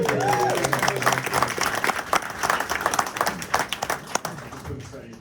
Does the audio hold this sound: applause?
yes